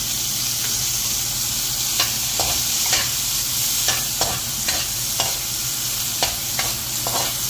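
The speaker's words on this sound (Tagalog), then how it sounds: "Dahil light brown na or golden brown, ilalagay ang sibuyas." Onions frying in a pan, heard as a steady sizzle close by, broken by repeated scraping stirs at an uneven rhythm and with no voices.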